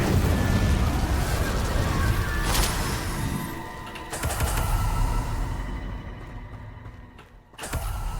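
A fire spell, Incendio, cast in Hogwarts Legacy, a loud roaring whoosh that swells and fades in waves, with a sharp burst near the end, heard alone without talk.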